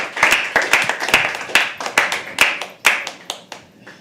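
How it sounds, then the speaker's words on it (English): A small audience at a live poetry open mic clapping by hand, a scattered burst of individual claps that are close and distinct before thinning out. "Can we welcome on stage with a huge round of applause, Satyen."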